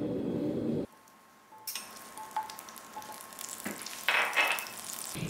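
Butter sizzles in a hot pan for risotto, a soft crackling fry with brief clinks and stirring bursts after an opening thud, fairly quiet and close, with no talk.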